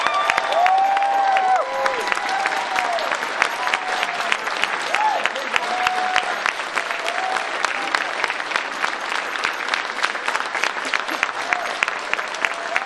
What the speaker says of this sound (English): Big round of applause, and maybe a standing ovation